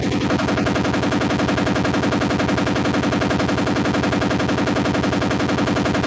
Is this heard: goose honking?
no